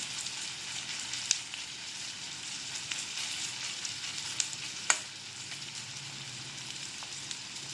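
Sliced onions fry in hot oil over a low flame, a soft continuous sizzle with occasional sharp pops and stirring clicks, close but fairly quiet.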